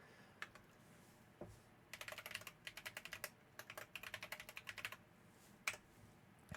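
Typing on a computer keyboard, heard as quick bursts of close, faint key clicks with brief pauses between them in a quiet room.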